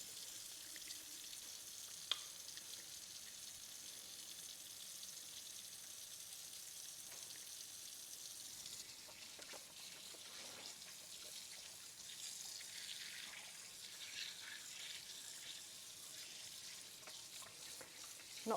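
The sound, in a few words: washing hands under warm tap water with olive oil and washing-up liquid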